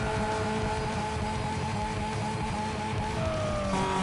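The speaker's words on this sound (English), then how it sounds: "when you rev this car and with this engine upgrade sounds like" An upgraded Cobalt SS engine in Need for Speed: Most Wanted (2005) revs loudly and continuously, with a dense roaring tone and a pitch that climbs and drops near the end.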